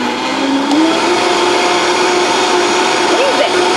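A Vitamix blender whirs steadily with soapy water inside, a loud continuous motor drone with a brief pitch swoop near the start and a small wobble near the end.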